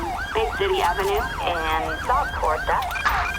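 Wailing ambulance siren in the GTA video game, rising and falling in continuous loud sweeps for the full stretch, with faint background game sounds.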